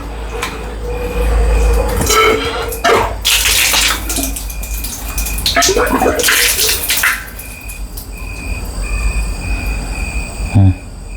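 Water flows steadily from a pipe at a rented house. The rushing, splashing stream is loud and close, with occasional knocks and clatter over it and no clear speech.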